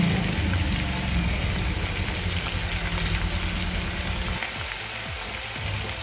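Garlic and ginger fry with softened tomato for kaju masala, giving a steady, close hiss and crackle that holds evenly throughout with no talking.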